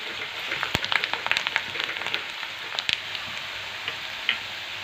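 Onion, cumin seeds and curry leaves sauté in hot oil for a quick vermicelli dish, a close, even sizzle broken by sharp crackles and spatters throughout.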